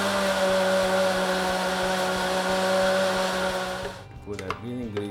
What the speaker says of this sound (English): So now we want to blend